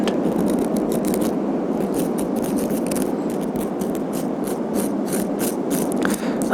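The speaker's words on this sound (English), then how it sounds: "Brush, brush, brushing the starfish" A brush scrubs over dried starfish on a beach, making close, dense scratchy bristle strokes in a steady stream with faint clicks, loud and up close with no talking.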